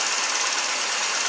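A Chevy engine runs with a P0300 misfire, giving a brief, steady burst of rapid mechanical knocking and rough running, close and continuous.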